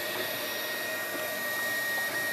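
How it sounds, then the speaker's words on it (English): 3D printer printing an inner iris section for a large Disney Nautilus model replica, giving a steady whirring, buzzing motor drone with faint high tones, continuous and fairly close throughout. "here you can see it getting printed out on the 3D printer"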